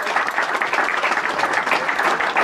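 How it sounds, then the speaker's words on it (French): Spectators at a cycling race podium applaud the race leader, a dense, steady burst of clapping from a crowd, fairly loud and without a break. "Allez, une nouvelle fois, on peut l'applaudir, le leader, Valentin Demerchère"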